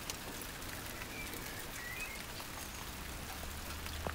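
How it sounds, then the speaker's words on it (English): Steady rain falls on a vegetable garden in June, a constant hiss of drops with occasional louder patters close by and no voices. "that rain is brilliant"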